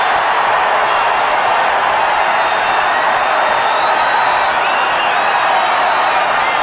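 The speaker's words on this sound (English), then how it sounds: "They better get some control for this crowd because Bedlam could break loose here." Dense roar of a stadium crowd cheering a Cleveland touchdown at a 1980 Pittsburgh at Cleveland football game, a steady loud wall of voices and whoops, distant and continuous.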